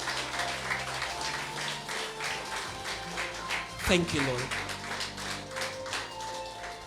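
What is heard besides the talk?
church congregation applauding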